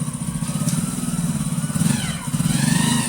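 A motorcycle engine idles close by with a steady, rapid low thumping pulse, rising slightly in intensity toward the end, with no talking over it.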